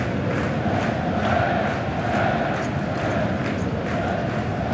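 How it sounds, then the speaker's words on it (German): Spectators at a Rapid versus LASK football match cheer and chant together in the stadium, a dense, steady crowd roar with rhythmic surges and claps, loud and continuous. "Die Zuschauer feiern natürlich auch sich selbst"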